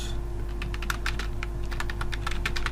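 Steady keyboard typing on a computer while filling in a job application form for the Chattogram judge court, a quick run of light clicks close up with a low constant hum underneath and no speech.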